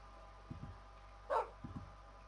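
A dog in the Minecraft video game gives a few short, quick barks in two clustered pairs, with a brief louder whining yelp between them, clear and close against a quiet game background.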